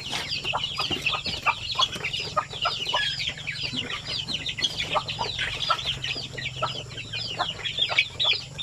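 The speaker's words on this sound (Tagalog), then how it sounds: "Sir Jerry Castro, piniprepare na natin yung inyong shipping sa inyong mga sisiw." Many native chicken chicks, packed for shipment from Bukidnon to Cebu, peep continuously in rapid overlapping high chirps, loud and close, with no talking.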